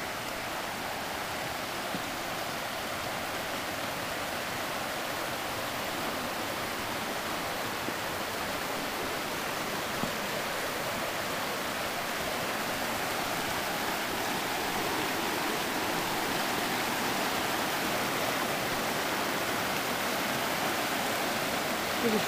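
Creek water flows steadily beside a redwood forest trail, a soft, continuous broadband rush with no breaks and no voices.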